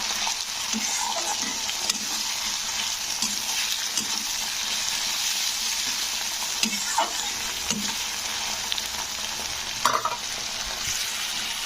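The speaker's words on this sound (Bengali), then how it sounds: "টমেটোটাকে পেঁয়াজের সঙ্গে ভালোভাবে কিন্তু কষে নিতে হবে বা ভেজে নিতে হবে" Tomato frying with onion in a pan for Bengali bata fish curry: a continuous close sizzle with repeated spatula scrapes and soft knocks as it is stirred, steady throughout, with no voices.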